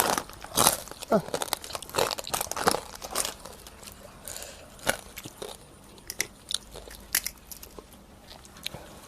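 Crunchy food being bitten and chewed at a Thai meal with blanched and fresh vegetables alongside spicy fermented fish sauce noodles; repeated sharp crunching bites close to the mic with brief talk between them.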